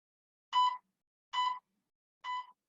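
Three short electronic beeps from a workout interval timer during a boxing and agility class, evenly spaced about a second apart, clear and alone with silence between them.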